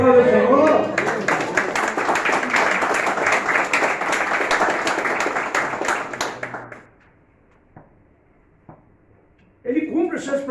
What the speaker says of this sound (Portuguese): Dá uma salva de aplausos ao Senhor